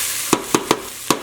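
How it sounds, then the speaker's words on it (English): Four sharp, evenly spaced crackles from onions caramelizing in a pan for French onion soup, each a brief sizzling pop over a quiet background. "Now we've got caramelization starting on the onions"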